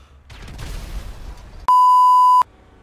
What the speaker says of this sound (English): You're beeping me with your horn?